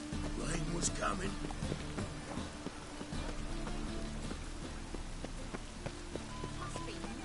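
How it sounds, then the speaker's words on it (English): Rain patters steadily on surfaces in The Witcher III, faint and continuous, with scattered drops, footsteps and hoof clops mixed in beneath a voice speaking. "Must be mad running around in this rain. And it's raining again."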